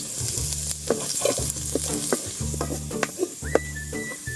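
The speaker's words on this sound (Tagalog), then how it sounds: "So magisa na tayo mga idol sa bawang." Garlic sautéing in a pan while cooking pork and beans, a steady sizzle broken by repeated scraping stirs of a utensil against the pan, with a brief faint whistle-like tone near the end; no talking.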